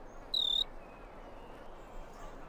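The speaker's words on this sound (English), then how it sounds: "Oh man, now there's crickets everywhere!" Crickets chirping in a Disney Mulan computer game, with one short, clear high chirp burst near the start and then a faint, steady insect-like background.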